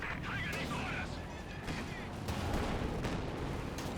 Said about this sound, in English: Multiple AT guns here.